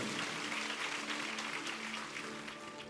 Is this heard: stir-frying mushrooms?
no